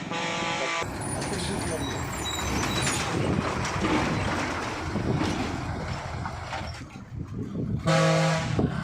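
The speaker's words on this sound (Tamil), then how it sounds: "நாகம்பாளையத்திலிருந்து வருது இந்த வண்டி" A vehicle passes on a hairpin hill road through the Sathyamangalam forest on the Kadambur route, a broad roaring rush mixed with wind buffeting, with horn-like tones at the start and end and voices faintly present.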